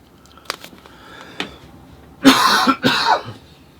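A person coughs during a watercolor painting session, two harsh close coughs in quick succession after a few faint clicks and small sounds, with no speech.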